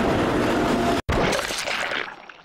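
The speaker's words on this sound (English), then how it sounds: "the train comes screaming into the station" A train roars into a station in the video game Steins;Gate, a loud, dense rushing screech that cuts out for an instant and then continues as a harsh, fading roar.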